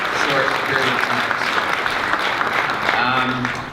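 Audience applause for three presenters at an urban analytics market update, dense clapping with a few voices faintly audible underneath, steady throughout the short stretch.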